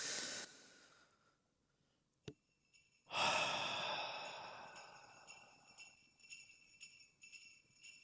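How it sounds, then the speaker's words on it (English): A single big, deep breath drawn in and then let out in a long, slow sigh, close and clear against near silence, preceded by a faint rustle and a small click. "start our read along with a big, deep breath"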